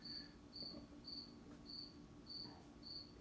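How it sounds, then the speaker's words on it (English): A cricket chirps indoors in regular short bursts about every half second, steady and fairly faint over a low background hum, with no voices. "I can't do anything about the cricket."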